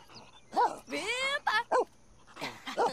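Dog sounds in The Sims 4 video game, several short barks and whimpering yips in quick bursts, close and clear over a faint game background.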